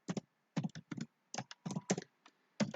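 Keys clatter on a computer keyboard in short, quiet bursts of quick clicks with brief pauses between, close and alone with no talking.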